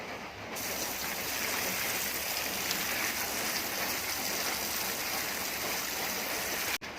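Water pours over Korean fig bonsai cuttings in an outdoor garden, a steady, dense shower-like spray running continuously for several seconds before an abrupt stop.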